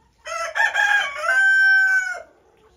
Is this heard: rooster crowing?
yes